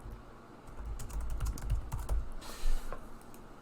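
Computer keyboard being typed on while adding text in LibreOffice office software, a quick run of soft, close key clicks in an irregular burst with a louder cluster near the end.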